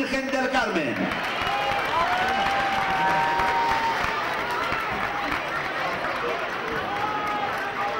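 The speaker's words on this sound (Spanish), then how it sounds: "un fort aplaudiment per a elles" A crowd applauds and cheers the girls winning their age category at an outdoor school cross-country race, steady clapping throughout while an announcer's voice carries over a loudspeaker.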